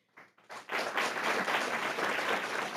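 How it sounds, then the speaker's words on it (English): An audience applauds at a board meeting, the clapping starting with a few scattered claps and then swelling into sustained, steady applause from a full room, moderately close, with no talking over it. "Let's give her a round of applause."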